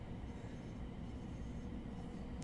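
BR Class 700 electric multiple unit driving in Train Sim World 4, a steady loud rumble of running gear and motor noise throughout with no gaps, low and continuous.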